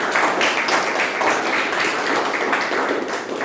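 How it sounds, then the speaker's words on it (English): An audience at a Toastmasters club meeting applauds, a dense, steady wash of many hands clapping at once that holds at an even level throughout, close and full. "big round of applause"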